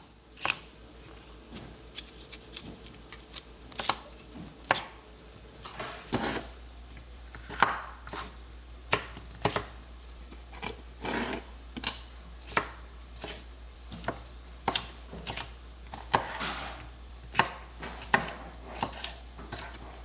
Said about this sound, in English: Seed and rough chop 4 poblano peppers.